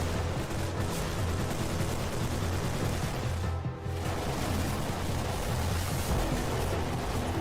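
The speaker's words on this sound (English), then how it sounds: "All I can hear is just never-ending gunshots. Constant shooting." Dense, continuous video game gunfire in Resident Evil 7 rattles without pause, a loud wall of rapid shots and blasts blending together throughout.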